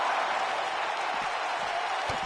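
Arena crowd noise during a title match in the WWE 2K19 wrestling video game, a steady, dense roar of cheering and applause filling the whole stretch without letting up.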